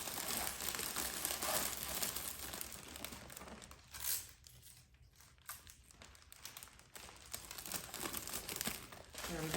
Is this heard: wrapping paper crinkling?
yes